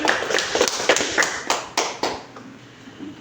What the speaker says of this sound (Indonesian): Yuk, beri tepuk tangan untuk kelompok.